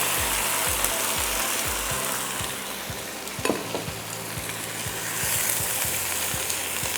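Marinated chicken with ginger, garlic, turmeric and salt frying in browned onions and masala, a steady close sizzle with repeated scraping stirs of a spoon through the pan, no voices.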